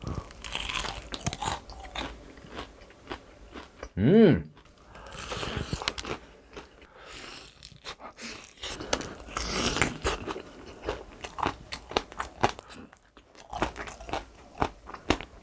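Crisp, crackly crunching of spicy fried chicken being bitten and chewed close up, repeated through the clip, with a brief voice murmuring partway through.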